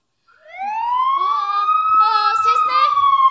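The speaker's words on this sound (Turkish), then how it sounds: "Ses ne? İtfaiye geldi, itfaiye." A Turkish fire engine's siren arrives with rising, wailing tones that hold steady and loud, with people talking faintly underneath.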